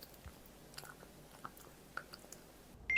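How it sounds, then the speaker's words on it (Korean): A cat eating crunchy dried capelin treats from a bowl, soft irregular crunching and chewing close by, small crisp bites scattered over a quiet background, ending with a brief louder rustle. "오늘도 그릇이 뚫릴 기세로 먹고 있습니다."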